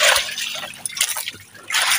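Sea waves slap and slosh against the hull of a small rocking fishing boat, close splashing and trickling water in uneven surges.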